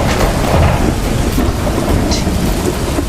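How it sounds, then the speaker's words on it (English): Heavy rain pours in a steady, loud roar during the rainy season in Nigeria, with low thunder rumbling beneath it and no voices over it. "Is that thunder?"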